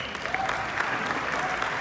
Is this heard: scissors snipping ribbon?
no